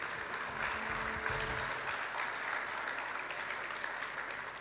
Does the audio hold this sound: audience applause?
yes